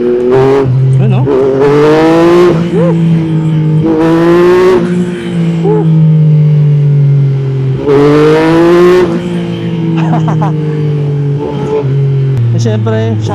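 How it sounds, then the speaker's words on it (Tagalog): A 2024 Yamaha MT-09 SP motorcycle engine is revved with the throttle nearby, its steady idle tone broken by several loud surging blips that rise and fall, while someone talks over it. "Pag binigla mo lang yung throttle, doon lang siya bibigla."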